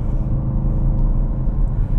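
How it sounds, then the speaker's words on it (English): Ford Focus RS engine under throttle, a steady loud low rumble that holds through the short stretch with no voices. "I just rolled in my foot onto the throttle."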